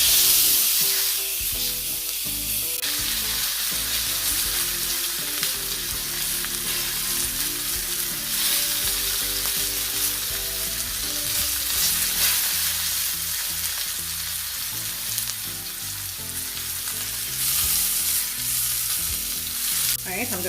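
Rib eye steak sizzling hard in a hot pan just after being flipped, a loud, continuous frying hiss with crackle that runs unbroken throughout, with no talking.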